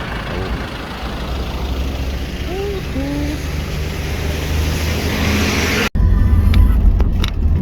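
A car interior carries a steady, loud low rumble of driving road noise, with faint background voices, before a brief cut near the end gives way to a harsher, closer rumble.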